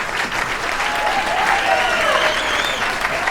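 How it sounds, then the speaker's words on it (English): Warm, sustained applause from a theater audience greeting the cast of performers at an alumni players' stage presentation, a dense, steady wash of many hands clapping with faint background voices throughout. "give me a warm round of applause to our amazing cast of performers here"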